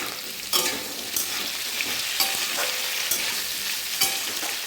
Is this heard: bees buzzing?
no